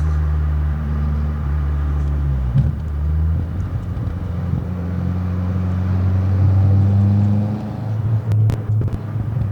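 A Fiat Uno Turbo's engine pulls hard from inside the car, a loud droning rumble that drops at a gear change and then rises steadily again, with no talking.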